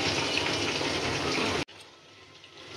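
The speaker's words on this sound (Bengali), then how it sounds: "জলটা দিয়ে দিতেছি।" Water pours steadily into a pot of Barishal-style shrimp curry cooked with chili and hog plum, a loud rushing splash that stops abruptly, leaving faint kitchen sounds.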